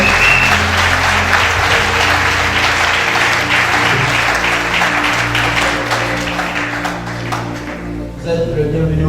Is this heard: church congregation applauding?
yes